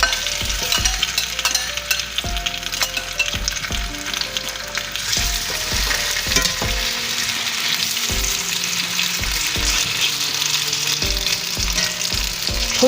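Sliced potatoes sizzle and crackle in hot grease in a skillet, a steady dense fry with repeated stirring scrapes and clinks throughout, close and fairly loud with no talk.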